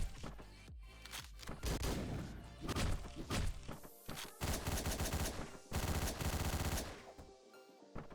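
Double-barrel shotgun blasts in the Hotline Miami video game, a rapid series of heavy booming shots and thuds packed closely together over a loud, busy game soundtrack.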